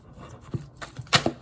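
Stiff tarot or oracle cards are shuffled by hand, making a few quick, soft riffling slaps and clicks close to the microphone over quiet room tone.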